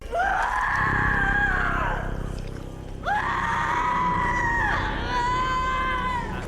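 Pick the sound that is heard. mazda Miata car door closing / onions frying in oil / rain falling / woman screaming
woman screaming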